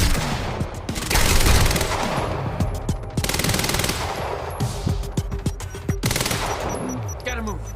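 Submachine gun fire in the video game Quantum Break, loud repeated bursts of rapid shots separated by short gaps, layered over dense combat noise and echoing impacts.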